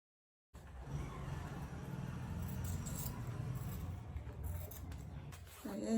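Scissors cut steadily through Ankara fabric along a traced bag pattern, a close, continuous crisp snipping and rustling that runs quietly for several seconds.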